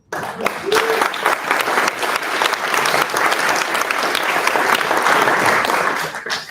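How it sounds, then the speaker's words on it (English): Sustained applause from an audience at an indoor forum, a dense even wash of many hands clapping that starts abruptly and holds steady for several seconds, with a faint voice briefly audible near the start. "I just want to applaud all of you"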